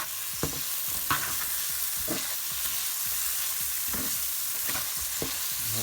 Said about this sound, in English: So we're going to add a bit of this in. We'll mix it in.